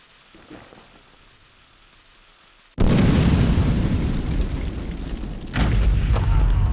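Dynamite exploding in Clive Barker's Undying, a sudden loud close blast that holds as a rolling roar, followed a few seconds later by a second burst adding to the roar.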